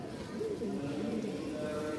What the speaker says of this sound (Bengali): এটা মেল আর এটা ফিমেল রানিং একটা জোড়া কবুতর